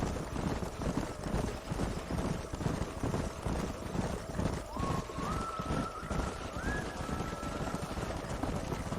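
Horses gallop in the Red Dead Redemption video game, with a steady rapid clip-clop of hooves, a brief whinny-like tone and wind rushing throughout.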